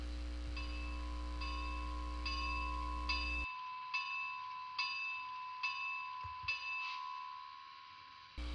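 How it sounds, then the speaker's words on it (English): A model Reading Pacific steam locomotive's sound-decoder bell rings steadily, about once per second, a bright electronic bell with a clear metallic tone over a low hum that drops away midway. "and the bell."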